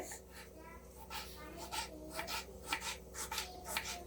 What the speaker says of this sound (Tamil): அது ஆகிறதுக்குள்ள நம்ம வந்து தக்காளியை கட் பண்ணிடுறோம் குழம்புக்கு